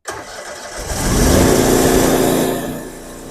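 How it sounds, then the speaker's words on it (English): A 38 HP trailer jetter engine cranks and catches, then runs steadily and loud, swelling slightly in revs before settling into a constant drone. "And then we'll start the engine."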